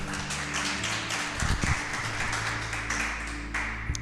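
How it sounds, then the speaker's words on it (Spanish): A church congregation breaks into applause during a service, a steady wash of many hands clapping with a few sharper bursts, sustained over a low background hum. "¿Cuántos le ponen un aplauso a Dios por eso?"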